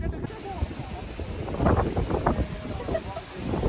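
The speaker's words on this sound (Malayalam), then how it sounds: "നല്ല കാറ്റുണ്ട്." Strong wind gusts outdoors near a rocky spot, roaring into the microphone in steady broadband rushes that swell louder midway, with people's voices faintly mixed in.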